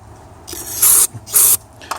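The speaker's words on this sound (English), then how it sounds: "I'm going to spray it down a few more times to make sure it's clean." Two sharp bursts of aerosol cleaner hiss into a Suzuki Samurai carburetor at close range, each about a quarter second long, with softer handling noises and a brief faint spritz following.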